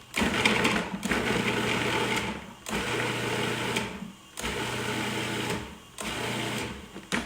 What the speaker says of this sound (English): So I know you have to listen to the food processor